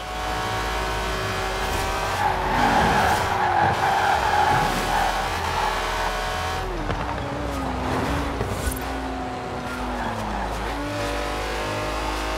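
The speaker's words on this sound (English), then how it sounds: "That's a 90-year-old racing car. It's gonna take some handling." A 90-year-old racing car driven hard in Forza Horizon 4, its steady engine drone joined by repeated tire squeals and skidding as it slides through corners, loud and continuous throughout.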